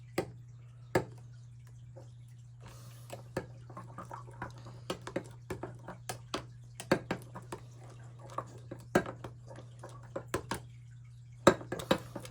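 Stirring a green glitter-coloured bait mixture in a container for Christmas baits, giving irregular light scrapes, taps and clinks against a steady low hum, with no talking.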